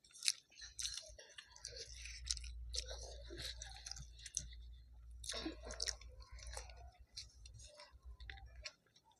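Someone chews soya egg biryani in an eating challenge, with close, wet munching and soft clicks repeating irregularly throughout.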